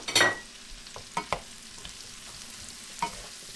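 Sliced leek and vegetables frying in leftover oil and spices for a curry, a faint low sizzle with a few sharp scraping stirs and clinks.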